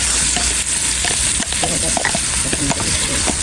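Chopped shallots stir-fry in a pan for minced pork with gravy, with loud continuous sizzling and repeated scraping stir strokes close by.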